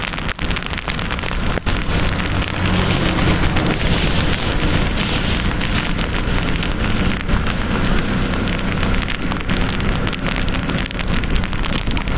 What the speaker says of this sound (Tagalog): Walang tigil ang ulan dito din mga ka-explore.